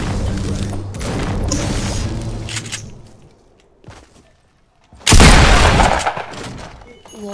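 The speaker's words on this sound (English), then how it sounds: "Why are you shooting?" Gunfire in a video game: loud, dense bursts of shots and booms, then a near-silent lull broken by a single thud, before a sudden heavy blast and more firing. Voices can be heard during the action.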